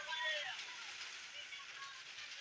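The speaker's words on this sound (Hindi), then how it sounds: "खूबसूरत बारिश हो रही है, तेज मूसलाधार है।" Steady, dense hiss of heavy monsoon-like downpour in a village in the afternoon, a continuous wash of water noise with no break.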